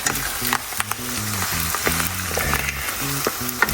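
Two eggs are quickly stirred into chanterelle mushrooms in a pan for an omelet. A continuous frying sizzle is broken by short scraping clicks of the utensil, and a faint tonal hum runs underneath.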